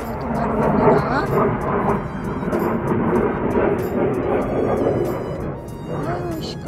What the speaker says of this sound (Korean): 아유 시끄러워. 비행기 소리 때문에.